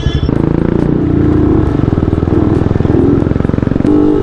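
A motorcycle engine runs close up with a loud, steady, pulsing throb and some rattling clatter as it rides through a village in Leh, Ladakh.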